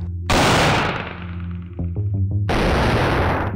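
Loud gunfire: a sharp, booming shot with a long ringing decay, a rapid clatter of smaller bangs, then another heavy blast, all close and with no voices.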